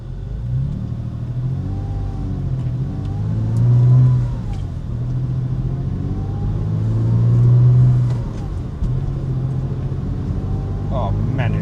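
A Porsche Boxster drives and accelerates, its engine rising in two swelling pulls over a steady road rumble, with talk faintly over it.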